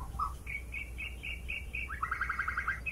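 Bird calls in bushland: a short series of clear, repeated whistled notes followed by a rapid trilling phrase, fairly close and loud over a low background rumble, with no talking.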